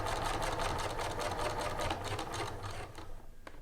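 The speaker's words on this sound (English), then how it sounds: "I set my foot back down, and I'm going to stitch until I get to the bottom of the opening" A sewing machine stitching a lapped zipper runs in a steady, rapid, close mechanical rhythm, then slows and stops near the end, with no talking.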